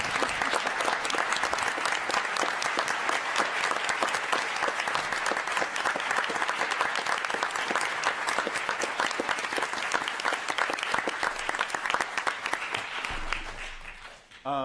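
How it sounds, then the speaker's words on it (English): Sustained, even applause fills a city council chamber for students attending Student Government Day, a steady wash of many hands that fades out near the end. "to stand as we applaud them"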